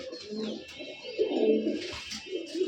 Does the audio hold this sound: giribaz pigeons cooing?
yes